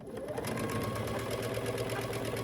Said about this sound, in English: I'm going to start at the end of this piece and sew a 1/4 inch